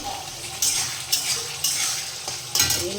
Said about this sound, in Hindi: हमारा यहाँ ये भी मसाला अच्छे तरीके से भून चुका है